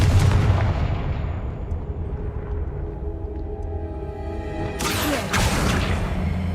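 A Confringo fire spell from Hogwarts Legacy bursts in a deep booming blast that rumbles and fades, followed by a second sharp crackling impact near the end.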